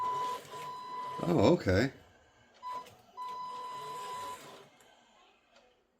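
Small electric motor of an RC crawler car whining in short bursts as the throttle is blipped, with a brief loud rev and a steadier whine afterward; a voice speaks briefly.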